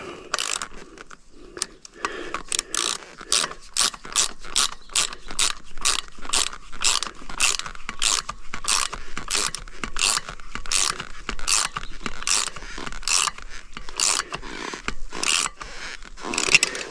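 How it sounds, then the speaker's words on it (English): Ratchet wrench tightening the rim locks on a 2022 Honda CRF450X off-road motorcycle, a close, steady run of sharp rhythmic clicks in repeated bursts with brief pauses, no talking. "I'll get these rim locks tightened down, and then I'll actually be ready to ride."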